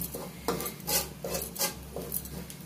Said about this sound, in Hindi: ये नारियल लिया था पिसा हुआ, अब हम इसको अच्छे से हल्का ब्राउन होने तक भून लेंगे। बहुत धीमी आंच पे।